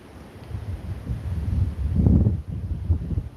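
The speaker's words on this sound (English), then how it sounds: "Yeah, it's a bit windy today." Low rumbling buffets of wind hit the microphone in uneven gusts, swelling strongest midway, close and muffled.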